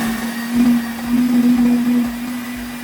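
Electric grinder whirring as it grinds gola kebab mince batter with yellow food colour, a steady loud motor hum with slight wavering load, running alone before stopping abruptly at the end.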